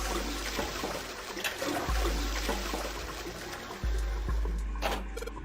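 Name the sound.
toilet flushing in 999 video game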